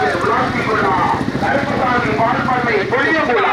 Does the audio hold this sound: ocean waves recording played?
no